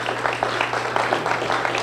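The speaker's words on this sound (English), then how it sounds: "Nice round of applause for Linda." A small school reunion crowd claps briefly and modestly, a light scattered patter of hands under a low steady hum.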